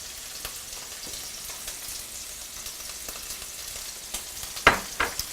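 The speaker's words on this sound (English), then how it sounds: "you can hear that pork sizzling" Pork sizzling in a pan gives a steady, soft hiss of frying with scattered crackles, and a few louder pops and clatters near the end.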